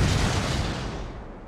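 Main guns of the battleship Rodney firing at close range on the Bismarck, a deep sustained boom that rolls and slowly fades, loud and alone.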